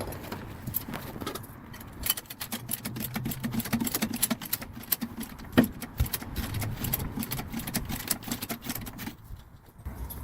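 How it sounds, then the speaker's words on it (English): A jack raises a Toyota Yaris, making a close run of rapid ratcheting clicks and metallic rattling that lasts about ten seconds with small pauses. No one speaks over it. "Now we're going to jack the car up."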